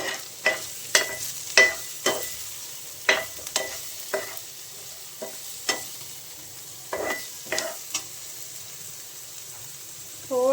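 Long-sliced green chili and seviyan stir-fry in a pan, with a run of sharp, irregular spatula scrapes and clatters over a quiet sizzle.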